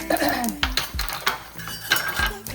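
Okra tipped into a pan already holding mustard and cumin seeds for a yogurt curry, giving several sharp clatters and scrapes of metal pan and utensil with sizzle between, close and fairly loud, no talk.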